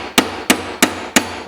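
A Japanese hammer drives a hardwood dowel through a steel plate in five sharp, evenly spaced strikes, each a crisp loud metallic knock close by.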